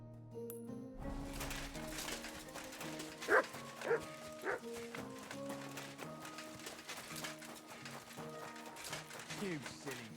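A dog barks and yips a few times in Kingdom Come: Deliverance II, set over game music and ambient sound, with speech around it.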